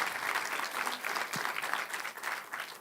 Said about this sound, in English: Give a round of applause to Victor.